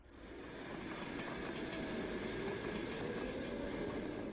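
A passenger train rolls steadily along its rails on a long journey, a continuous loud rumble with a faint rhythmic clatter of wheels, no voices present.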